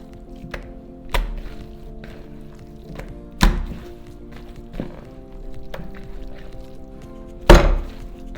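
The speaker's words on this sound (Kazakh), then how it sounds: "бұл фаршымызда біз қатты ұрып отырып, қалпына келтіреміз" Several heavy, wet slaps land at uneven intervals, close and forceful, with quieter soft thumps in between.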